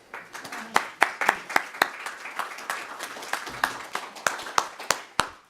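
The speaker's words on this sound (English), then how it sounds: "while you were applauding and welcoming me" Audience at a talk applauding to welcome a speaker, a room full of distinct hand claps at moderate distance, thinning slightly toward the end.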